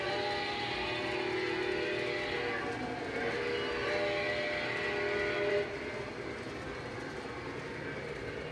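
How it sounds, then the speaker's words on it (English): MTH Santa Fe F3 ABBA model train units running on a layout, producing a steady rumbling rail sound with a whistle-like tone rising and fading, at moderate level with faint talk behind. "And there is the MTH Santa Fe's. F3s, the ABBA units."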